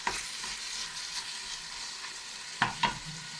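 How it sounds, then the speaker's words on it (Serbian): Meat and onions fry in a pan for stuffed peppers, giving a steady close sizzle with a few sharp stirring clacks near the end; no talking. "Malo nek se proprži meso sa lukom"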